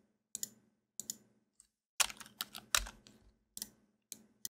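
Computer keyboard keys are typed in short bursts. Single taps and quick clusters of crisp clicks are separated by brief pauses. The sound is close and fairly quiet, with no talking.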